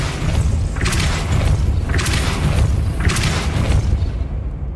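Three forceful whooshing impacts of the Depulso force spell in Hogwarts Legacy, evenly spaced about a second apart over a steady low rumble of game ambience, with no talk.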